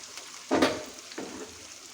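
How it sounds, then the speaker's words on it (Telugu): Ginger frying in oil in a pan for a tomato egg curry, giving a steady soft sizzle with two brief louder bursts, likely from stirring, close by and with no talk. "ఇలా కలిపాక అల్లము కొంచెము ఆయిల్లో మరగాలి"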